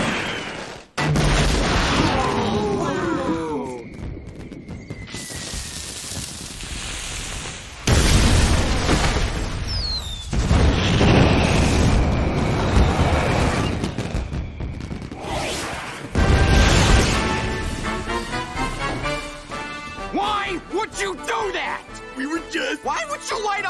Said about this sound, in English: Why would you light off all the fireworks before the biggest event of the year?